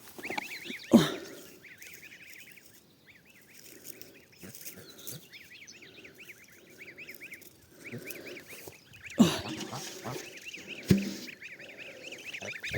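A goose in a backyard strawberry garden honks and chatters repeatedly in quick nasal bursts, fairly near, with a few thumps and knocks around it.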